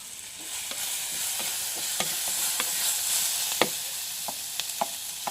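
Green chili, ginger and garlic sauté in hot oil, giving a bright, continuous sizzle punctuated by regular clicking stirs of a utensil against the pan, close up with no talking.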